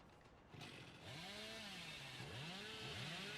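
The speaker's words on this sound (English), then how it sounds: "Just break it with your chainsaw." Hillbilly's chainsaw revs in the video game Dead by Daylight, with a rising engine whine that repeatedly winds up in loud, sweeping surges over a steady mechanical roar.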